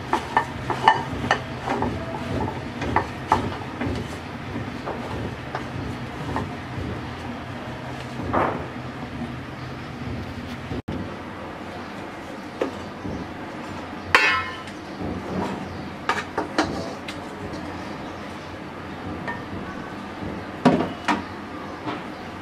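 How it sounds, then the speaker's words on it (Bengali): Pitha batter is stirred in a pot, giving intermittent scraping and clinking of a utensil against metal, with irregular knocks and clatter at moderate volume. "এবার আবার একটু নেড়ে নামিয়ে নেব।"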